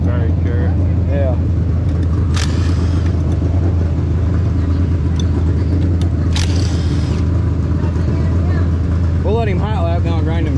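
Racing kart engine doing hot laps, a steady loud droning rumble with rising and falling revs passing near, while people talk over it.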